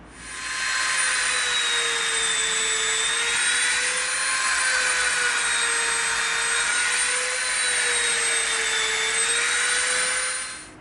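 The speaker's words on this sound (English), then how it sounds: "now we're going to come in with our Dremel bit and we're going to make some rivet marks" A Dremel rotary tool whines steadily and loudly while carving rivet marks into EVA foam for a Viper build, its high pitch wavering slightly as the bit bites and eases across the surface.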